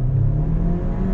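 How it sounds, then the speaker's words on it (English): A turbocharged 2022 VW Taos small SUV pulling away from a stop on throttle in drive, its engine holding a steady, loud, close drone with a low rumble throughout the short burst. "let it shift automatically. On throttle, here we go."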